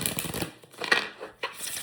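Tarot of American Gothic Poems cards shuffled by hand, a short soft riffling flutter in a couple of quick bursts, close and quiet.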